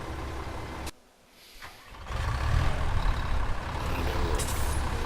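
Tractor engine in Farming Simulator 17 rumbles steadily, with a sharp hiss of air brakes near the start followed by a brief quiet gap before the engine noise returns louder and continues.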